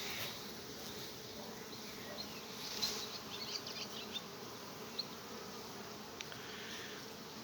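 Honeybees crawling over hive frames in an apiary give a steady, soft, close buzzing hum, with faint scattered clicks and no voices.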